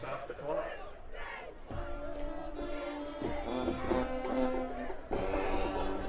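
A high school football playoff crowd in the stands shouts and bellows together in sustained, overlapping cheers and yells, loud and continuous, with voices rising in waves.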